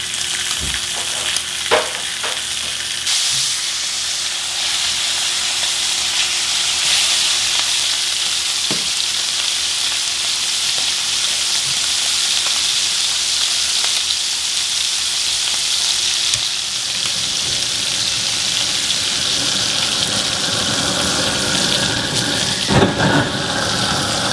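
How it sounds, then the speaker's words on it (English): Fat sizzling in a frying pan, a loud, steady hiss and crackle lasting throughout, with occasional sharp pops and a brief knock or two, close and alone. "I'll just put the fat in the pan."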